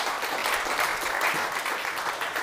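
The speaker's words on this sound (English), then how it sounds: "Please, a big applause" Audience applause welcoming a quantum computing speaker onto the stage at a technology talk, a steady, dense wash of clapping that holds evenly for the whole stretch without a voice over it.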